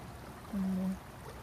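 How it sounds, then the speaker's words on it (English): A creek running high flows with a steady, soft wash of running water, with a brief low hum in the middle. "The creek is actually quite high today as well."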